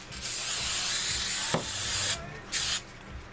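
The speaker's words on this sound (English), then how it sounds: "so I'm going to spray it." An aerosol spray can hisses over a ribbon bow in two bursts, a long steady spray of about two seconds and then a short one, close and clear.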